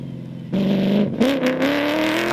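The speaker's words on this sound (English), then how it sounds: "Meanwhile, defending champions Anthony Taylor and Dennis Murphy scream past." Rally race cars in the Toyota 1000 desert race roar loudly past at speed, engines revving high and shifting pitch as they go by, with a gritty, rushing whir.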